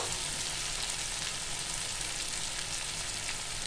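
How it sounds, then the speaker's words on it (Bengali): Split green chilies fry with spice masala in a pan while cooking banana stem ghonto, giving a steady, close sizzle that holds evenly throughout with no voices. "এবার দিয়ে দেবো 4টে কাঁচা লঙ্কা চিড়ে রাখা"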